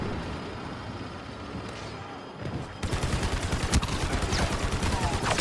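Sniper fire in a Star Wars video game, heard as loud, rapid gunfire that breaks in partway through after a quieter stretch and continues as dense repeated bursts.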